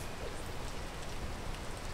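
Steady rain in the video game Peak, a dense, even hiss of falling drops on surfaces filling the whole span with no breaks.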